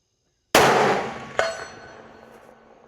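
Single CVA Endura Pro muzzleloader rifle shot at a long-range target, a sharp loud blast with a long decaying tail and a fainter echo crack a moment later.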